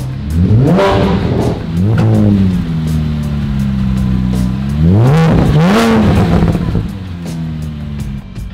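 Porsche 987 Cayman S with a Valvetronic exhaust, valves closed, revving in a garage: several sharp close revs rising and falling, then one long swelling rev before settling back to a steady idle.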